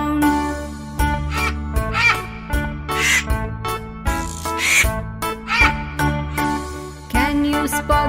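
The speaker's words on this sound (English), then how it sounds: "Listen to the scream of the vultures." Vultures scream in a series of repeated, harsh, tonal cries of varying pitch, several overlapping calls in an uneven rhythm, fairly loud and close.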